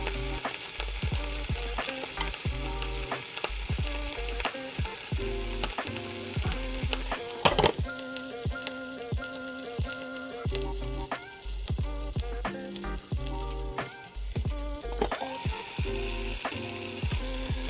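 Food sizzles and crackles steadily in a small pan, with occasional sharp clinks and scrapes of stirring throughout.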